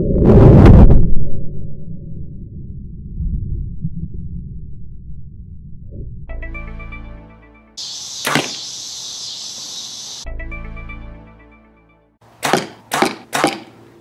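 Arrow tipped with a BEAST by BOWMAR 100-grain, 2-inch mechanical broadhead fired into an apple: a sharp thump and whoosh at the start, then rustling and clicks, a bright snap, and several quick ringing taps near the end.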